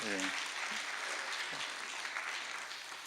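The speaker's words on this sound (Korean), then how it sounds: "귀한 찬양 너무, 한 번 더 크게 박수." Congregation applause in a church worship hall after a men's vocal ensemble sings, a soft, distant wash of clapping under the room's reverberation, with a brief voice at the very start.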